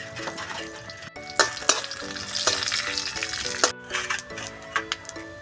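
Cumin seeds and panch phoron spices frying in hot oil with bay leaf and whole dried chillies, a steady loud crackling sizzle with a few stirring clinks and scrapes, close and continuous with no talking.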